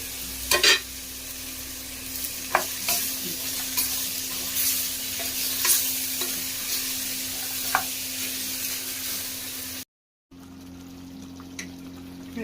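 Tomatoes hit a hot frying pan and are stirred, giving a steady close sizzle with scraping stir strokes and a few sharp clinks from a spoon against the pan, without talk.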